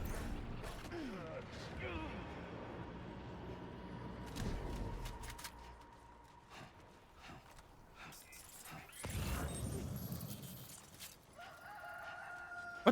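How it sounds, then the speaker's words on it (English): A rooster crows in the video game Death Stranding 2 amid mechanical creaks and clanking, with background noise around it. "Rooster noise?"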